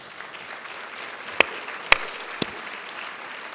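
Audience applause at an immigration, trade and security debate, a soft continuous patter of clapping from a room with three sharp nearby claps standing out.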